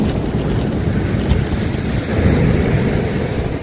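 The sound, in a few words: wind blowing on an Irish beach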